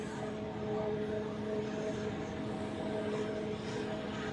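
An Airbus A330 bound for Delhi waits at Zurich Airport, holding short of runway 16, while a steady engine drone and broad rumble continue unbroken, with a faint whine running through it.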